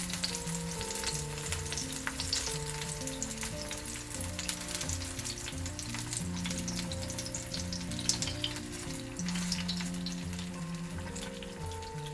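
Beaten eggs poured over tomatoes sizzling steadily in a hot frying pan, a continuous crackling fry with faint scraping of stirring throughout, close and fairly loud, with no talking.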